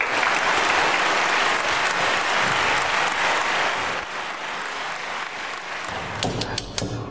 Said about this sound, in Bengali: তাই একটু অপেক্ষা করার জন্য একটু হাততালি একবার হয়ে যাক